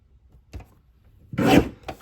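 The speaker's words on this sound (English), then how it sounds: "we're going to place them horizontally in the trimmer and cut them together at 8" A sliding paper trimmer cuts through 12 by 12 cardstock for photo mats: a short tap, then a firm, rough scraping slide of the blade, followed by a light click, close up with no voices.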